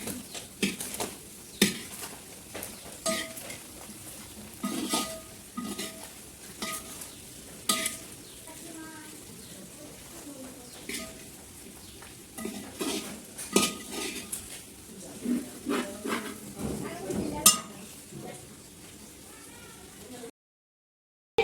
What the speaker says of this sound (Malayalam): എന്നിട്ട് നന്നായിട്ട് തന്നെ ഇളക്കും.